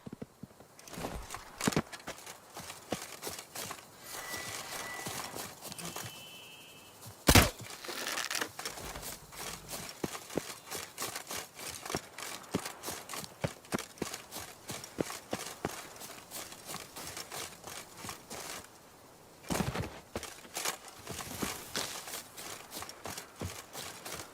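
The horse Roach gallops in the Witcher 3 game, with rapid, steady hoofbeats and soft crunching underfoot continuing throughout, plus a few sharper thumps, heard at moderate level.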